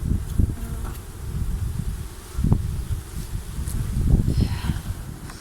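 Honeybees in an opened hive during candy-fondant feeding form a steady, close buzzing drone that swells and dips, with soft rustles and scraping handling sounds.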